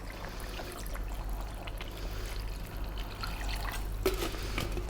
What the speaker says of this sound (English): Now we're going to add some more water,